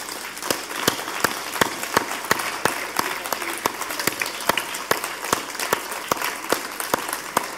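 An audience applauds as a married couple is welcomed onto a show stage, steady clapping with sharp individual claps standing out near the front, continuous for several seconds.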